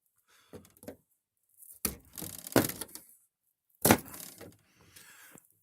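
A small plastic access flap beneath a BMW N54 engine is pried open by hand, giving a few sharp cracking snaps and scraping clicks in bursts, close and dry with silence between.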